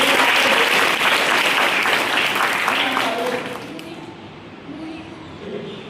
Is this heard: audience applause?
yes